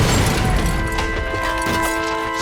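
Explosions booming in the Perfect Dark video game, a loud, dense blast of rumbling crashes that runs continuously with a steady tonal hum layered over it.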